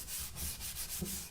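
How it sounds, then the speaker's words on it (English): Hand sanding of a wooden picture frame, brisk rhythmic back-and-forth rubbing strokes, close and fairly loud, with no voices. "Sanding it just like so."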